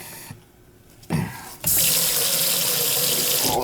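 Water runs from a faucet into a sink that has a leak. A brief quiet gap comes first, then the flow rushes loudly and steadily.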